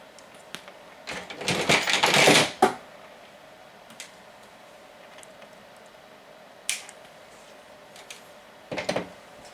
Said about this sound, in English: I'm going to put a zip tie around the collection of these 4 on the side after that crimp, or after that splice, and tighten that down nice and tight